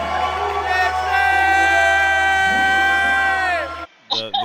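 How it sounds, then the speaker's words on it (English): A man screams loudly and at length in the background during a Friday night live stream, a sustained high, strained yell with rich harmonics lasting several seconds before breaking off, followed by brief voices. "The guy in the background screaming loud"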